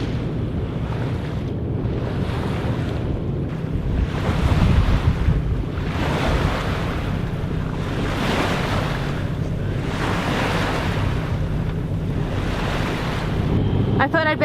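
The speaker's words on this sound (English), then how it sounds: "I thought I'd better check on Tallulah because of all of this water movement and boat movement" Sea water sloshing and surging around a sailing boat on the Indian Ocean in rhythmic swells, with gusty wind buffeting the microphone.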